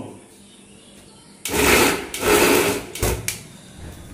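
After a quiet start, a meat mincing machine grinds mutton into keema for kababs in loud, close, harsh whirring bursts that stop and restart a few times.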